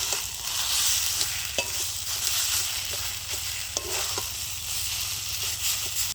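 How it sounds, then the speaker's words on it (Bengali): A spoon stirs vegetable chop filling with roasted spice powder in a pan. It scrapes and taps in irregular strokes over a continuous soft sizzle, close up and with no talk. "এবার ভাজা মশলার গুঁড়োটা দিয়ে ভালো করে নাড়ি চাড়িয়ে একটু নামিয়ে নেব"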